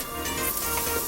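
Ginger and garlic frying in hot oil in a wok over medium-high heat, a steady, close, even sizzle that holds without a break through the whole moment.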